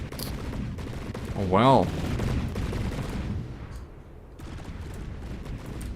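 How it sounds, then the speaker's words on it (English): Ship cannons firing in the naval battle video game From the Depths, a cluster of booming shots and rattling impacts early on followed by scattered quieter reports, with someone speaking briefly over the action. "I kind of like the sound of these cannons. They have a nice sound to them."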